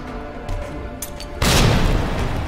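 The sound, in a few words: flashbang grenade exploding in Resident Evil 2 Remake video game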